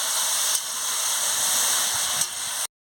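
A steady, loud sizzling hiss rises from a pan as catfish curry is sautéed and stirred, broken by a couple of brief louder bursts before cutting off abruptly.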